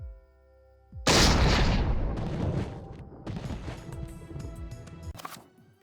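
A sudden loud explosion in the Eternal Darkness video game bursts out after a quiet hum, followed by a long crackling, rumbling tail with scattered debris-like clatter that fades after several seconds.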